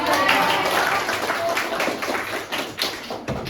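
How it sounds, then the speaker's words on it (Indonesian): Students in a classroom break into applause, a dense steady patter of many hands clapping close by for a few seconds before it thins out near the end. "Tepuk tangan."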